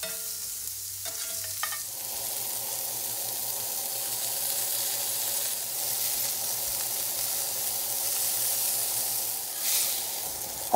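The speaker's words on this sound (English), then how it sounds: "All we need to do is fry them at medium heat so the inside is thoroughly cooked while a good crust forms on the outside." Ground pork sausage patties frying at medium heat in a cast iron skillet give a steady, close, loud sizzle that runs evenly through the whole stretch after a brief quieter start.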